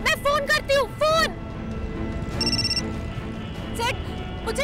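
A telephone rings in a TV drama scene, a short electronic ring burst heard under and between voices and background music.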